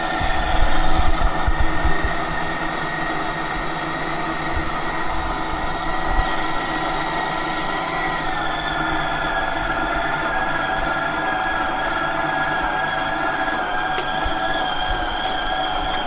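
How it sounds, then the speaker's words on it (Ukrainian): A dough kneading machine mixing dough, a steady mechanical motor hum with a rhythmic low churning thump, loud and continuous, with a brief bumpier start and no talk. "Як ми вже бачимо, тісто дуже швидко замішується."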